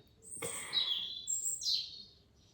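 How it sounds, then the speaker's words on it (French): Birds chirp outside an open window on a hot day, a few bright tweets and trills at moderate distance with no talking. "Vous entendez les oiseaux derrière"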